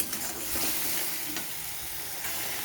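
A paste of garlic, ginger, green chili and onion fries in hot oil, giving a close, steady sizzle with soft stirring scrapes and no voices.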